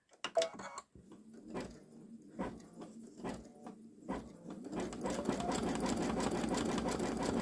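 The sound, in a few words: Babylock Solaris Vision embroidery machine sewing wide satin stitch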